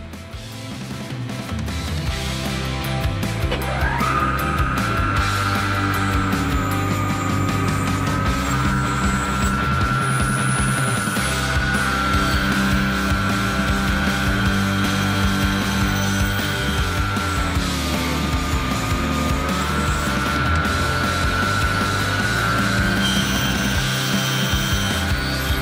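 A Proxxon FET miniature table saw cuts fret slots, its motor holding a loud, steady high whine with a bright tone that dips as the blade bites into the wood, running continuously and alone.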